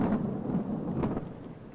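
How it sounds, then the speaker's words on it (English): Rumbling thunder rolls over a dense hiss of heavy rain during a storm with flooding in Central West New South Wales, a short, fairly quiet burst with no voices. "As thunder roared above, the rain didn't let up, closing roads and flooding causeways."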